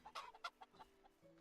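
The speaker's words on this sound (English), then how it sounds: "These are my chickens." Chickens in the Medieval Dynasty video game, a few short clucks and quick bursts in irregular rhythm, quiet and close, with a faint background tone underneath.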